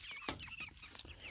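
Meat chickens eating high-protein chick feed cluck in short, close bursts over a short stretch, with soft overlapping bird calls and no talk.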